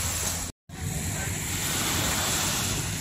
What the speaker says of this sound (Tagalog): Masarap kasi sa tenga yung hampas nung nung dagat.